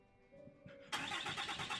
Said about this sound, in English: The truck starts up simultaneously with the blue one in front slowly moving in on the street